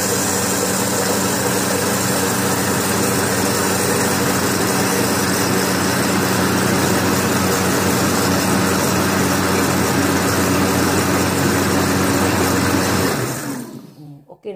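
A blender on its turbo setting whirs steadily through over-ripe fruit for a smoothie, a loud, continuous motor drone that holds for about thirteen seconds before cutting off abruptly.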